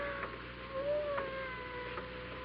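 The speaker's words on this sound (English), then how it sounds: "I hear a cat." A cat gives a faint, drawn-out meow, rising and then falling in pitch, over a low background hum.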